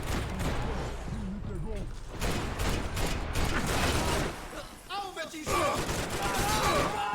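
Gunfire in the Max Payne 3 video game: repeated bursts of shots and weapon mechanisms crackle unevenly through the scene, mixed with voices talking over the shooting.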